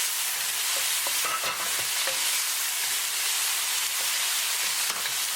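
Tomatoes and lobster tails for a curry are stirred in a frying pan, with a steady close sizzle and occasional scrapes of the spoon running throughout and no talking.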